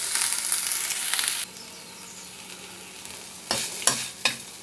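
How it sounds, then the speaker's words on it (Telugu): Ajwain leaf rice ingredients frying in a pan: a steady broadband sizzle fills the first stretch, drops to a quiet low hiss, then returns in short bursts of crackle and stirring near the end, close and with no talk. "ఇది చక్కగా ఫ్రై అయ్యింది"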